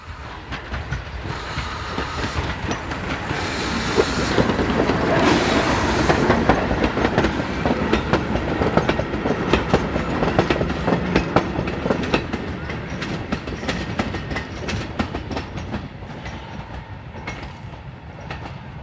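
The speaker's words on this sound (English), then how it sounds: "Arriving from Břeclav is the only operational locomotive of its type, number 304313." Steam locomotive number 304313, the only operational engine of its type, built for shunting by the Austro-Hungarian State Railway Company, arrives from Břeclav on a branch line; a loud, continuous rumble of rolling wagons and rhythmic clatter swells and then eases.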